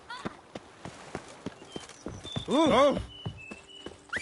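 Roach, the horse in The Witcher 3 video game, gallops with a steady, quick run of hoofbeats. A brief voiced exclamation and a tonal call cut in near the middle.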